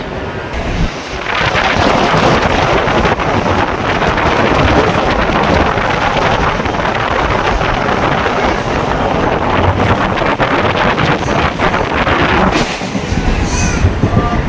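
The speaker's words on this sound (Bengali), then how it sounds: "ট্রেন ছেড়ে দিয়েছে শুরু থেকে একদম ঝড়ের গতিতে" A train runs at high speed between Bengal stations, a loud continuous roar of wheels and rushing air with wind buffeting the microphone, steady throughout and easing slightly near the end.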